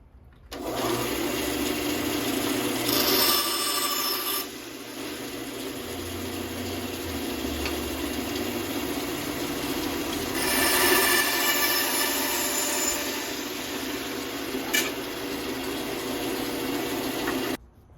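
A bandsaw cuts wood for a face frame on a Stickley 913 dresser, giving a steady whirring run with a high whine. It swells louder around the middle and near the end, and no voices are heard.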